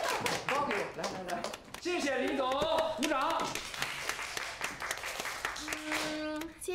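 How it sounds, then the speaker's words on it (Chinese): Scattered hand clapping at a staged gathering for police officers in a Chinese TV drama. The clapping comes as sharp, uneven bursts, with people talking over and between them. "谢谢李总，鼓掌"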